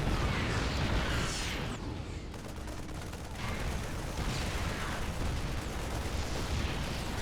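Siege tanks fire in a StarCraft 2 match, a dense, continuous roar of blasts and explosions that barely lets up, loud and close, with a short dip partway through.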